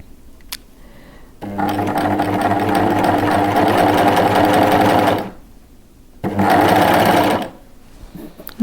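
Serger sewing machine stitching lace for a camisole, differential feed set to neutral, driven at moderate speed: a loud steady whir for several seconds, a short pause, then a second shorter burst.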